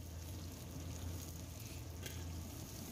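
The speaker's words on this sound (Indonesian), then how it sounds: "Dan kita tumis lagi sampai semuanya matang dan harum ya" Scallions with garlic and dried shrimp stir-frying in a pan for a Taiwanese-style stir-fried napa cabbage dish, giving a steady, even sizzle throughout with no talking.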